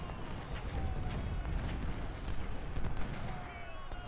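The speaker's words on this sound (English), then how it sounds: "being battered by my artillery pieces" Artillery fire in the Civil War strategy game Ultimate General: Civil War, a rumbling wash of repeated booming cannon shots rolling continuously over a low battle din.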